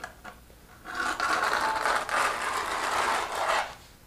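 A notched trowel with a 1/4 inch groove side drags adhesive across the back of a shower tile, giving a continuous gritty scraping rasp of about three seconds, close by and fairly loud, after a few faint knocks.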